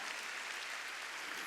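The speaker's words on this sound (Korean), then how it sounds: "박수로 하나님께 깨달은 사람만 박수 치라고요" Congregation applauding during a Korean church Sunday worship service, a steady dense wash of clapping that fills the short moment without pause or voices.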